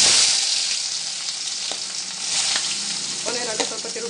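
Onions frying in a pan for an egg curry, a hissing sizzle with occasional scraping stirs of a spoon, heard close and without talk.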